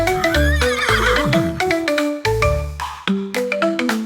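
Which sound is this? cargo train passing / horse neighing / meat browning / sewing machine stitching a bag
horse neighing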